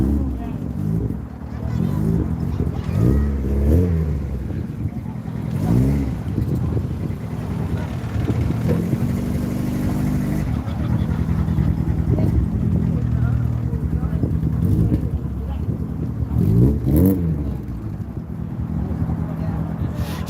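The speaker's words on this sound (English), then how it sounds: "It sounds really poppy with this Zetec engine." A car with a Ford Zetec engine revs repeatedly, its engine note rising and falling over a steady low idle, close by and fairly loud, while people talk over it throughout.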